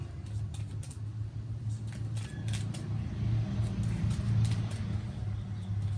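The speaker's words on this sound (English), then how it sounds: "You guys know that I like to film outside in the summer, so you may hear some morning traffic." Morning road traffic outdoors in summer, a low steady rumble of passing vehicles with gentle swells, accompanied by faint intermittent bird sounds.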